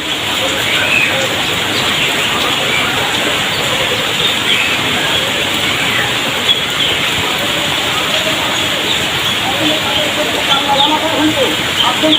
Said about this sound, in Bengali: কদিন যাবৎ বৃষ্টি পড়তেছে